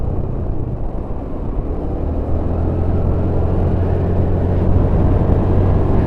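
An ALS bus drives along a mountain road near Bukittinggi, giving a continuous low engine rumble that grows slightly louder as it goes by, with steady road noise and no talk.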